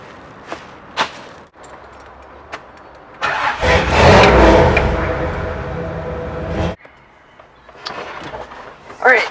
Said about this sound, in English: I ran my engine for a bit